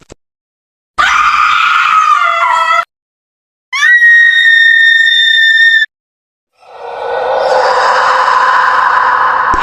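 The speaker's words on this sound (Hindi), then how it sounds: "मैं दोबारा साउंड इफेक्ट्स में आ जाऊंगा और सर्च करूंगा हॉरर स्क्रीम।" Horror scream sound effect: three loud separate bursts, a harsh wavering shriek, then a high sustained whistle-like wail, then a long rising noisy scream, each followed by silence.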